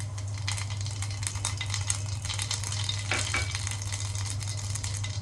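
Cumin seeds sizzle in hot oil for a tempering poured over kadhi pakora, a steady close frying hiss with faint stirring clicks and a brief spatter burst midway.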